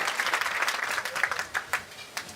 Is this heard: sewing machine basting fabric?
no